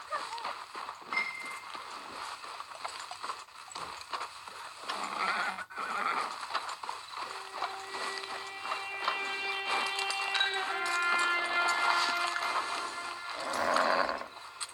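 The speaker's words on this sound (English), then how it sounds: "Get your horse." A horse in Red Dead Redemption Online whinnies with long, drawn-out neighs while its hooves clip-clop beneath, close and fairly loud over steady outdoor game ambience, with no talking.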